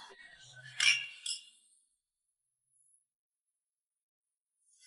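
Glasses clink together in a wedding toast, two or three bright chimes close by, followed by near silence.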